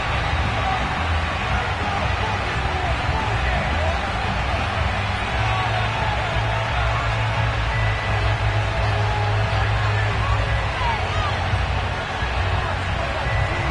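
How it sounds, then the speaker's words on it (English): Stadium crowd at an EA Sports football game, a steady roaring murmur of a packed stadium filling the background, loud and continuous. "this crowd is ready to go"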